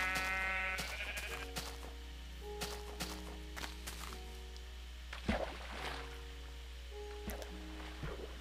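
A Minecraft sheep bleats several times in short wavering calls over a quiet game backdrop with soft footsteps and a faint steady hum, and a little talk in the background.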